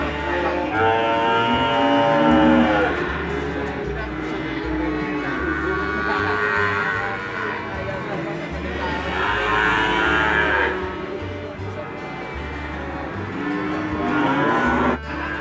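Cattle mooing repeatedly at a farm holding young prospect bulls being raised for size, long drawn-out calls rising and falling through the clip amid steady background noise, with no talk.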